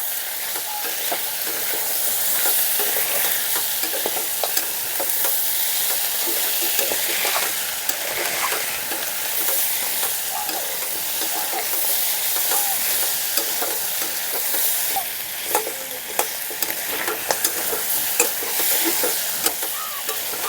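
Aar fish head tossed with dry red chilli powder and other spices, stirred in a frying pan for a ridge gourd curry, giving a steady close sizzle with the scrape of a spatula throughout.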